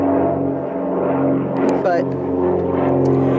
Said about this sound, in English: I have a plane going overhead.